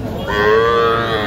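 A single drawn-out moo from a bull calf at a crowded cattle market, loud and close, rising then holding for about a second over faint background bustle.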